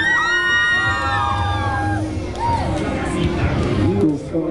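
A karaoke crowd at a comic convention in Puebla shouts and cheers loudly without a microphone, a mix of yells, whoops and overlapping voices filling the room.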